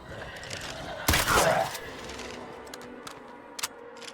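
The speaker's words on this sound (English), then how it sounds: "Better make these shots count." Gunfire in the zombie survival game State of Decay 2, a sharp loud burst of shots with ringing tail, followed by faint mechanical clicks and small taps.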